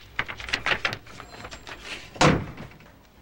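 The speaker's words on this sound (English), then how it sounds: "Shut the door, sir." A door being shut, a single solid thunk near the end that follows a series of lighter knocks and rustles, close and fairly loud.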